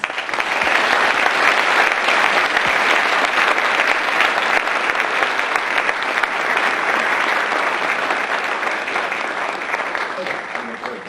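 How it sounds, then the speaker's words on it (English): An audience claps in a long, steady round of applause welcoming two speakers to a lecture, a dense crowd sound that holds at full strength for about eleven seconds before easing slightly. "let's welcome Ms. Sasamori and Professor Hatasa with a round of applause."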